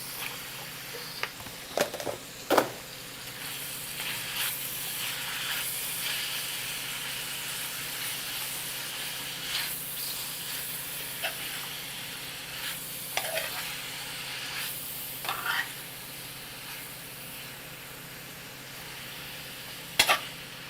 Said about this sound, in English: Then we're just going to add our onions.